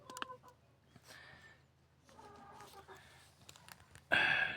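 Hens cluck and murmur softly at a distance as they go back into their coop for the night, with scattered calls under low background noise before a sudden loud burst at the end.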